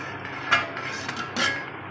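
Metallic clinks and a scraping rattle as a lid is lifted off a pot of butter chicken masala, close by with a steady background hum.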